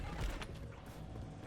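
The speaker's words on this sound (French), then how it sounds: "Je recharge." Weapon being reloaded in a video game: a short, quiet mechanical creak and clack lasting about a second and a half, with no voices.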